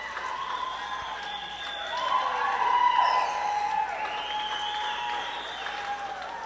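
Stadium crowd at an Asia Rugby U18 Sevens girls' match cheers and applauds a Hong Kong interception, a broad roar that swells to a peak midway and then holds at a steady, loud level.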